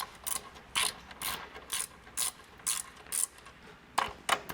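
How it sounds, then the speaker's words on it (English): A ratchet wrench clicks in short, rhythmic bursts of quick pawl clicks with brief pauses between them, close and clear, as 14mm top nuts are worked loose on a Toyota Tacoma suspension assembly. "So for the top nuts, we're going to be using a 14mm wrench."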